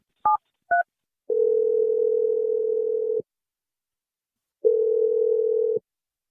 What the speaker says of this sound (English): I'm going to dial your nanny, Elsie, right now